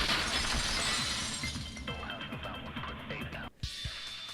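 A window shatters in Danganronpa 2, a bright burst of breaking glass followed by tinkling shards that fade out, with a second small clink near the end.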